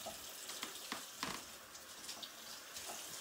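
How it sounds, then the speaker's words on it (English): Tap water runs steadily over bone-in pork chops in a sink, a close hissing splash with short spattering bursts as the meat shifts under the stream, with no voices. "Some people don't rinse their meat. I do."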